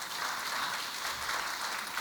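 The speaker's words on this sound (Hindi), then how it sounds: "ताली बजाए तो एक साथ बजाए, जश्न अदब है तो बजाइए एक बार मरतबा" Audience applause at a poetry recital (mushaira) marking Mirza Ghalib's birth anniversary, a dense, steady roar of many hands clapping together, loud and close, with no voices over it.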